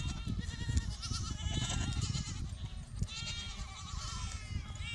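Many goats and young kids bleat over one another, overlapping calls of varying pitch from a close herd, continuous throughout.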